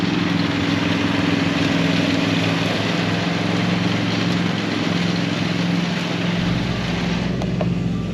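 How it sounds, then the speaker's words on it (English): A lawn mower engine drones steadily while cutting grass on a small homestead, loud and continuous, with a low rumble that drops away partway through as the load changes. "Sven's actually also doing some mowing today."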